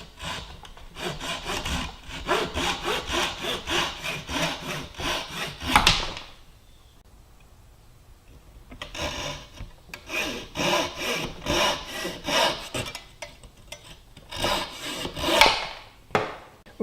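Handsaw cutting off protruding wedges at the end of an oak chair's tenon: steady rhythmic back-and-forth strokes, close and fairly loud, in two bursts separated by a brief pause.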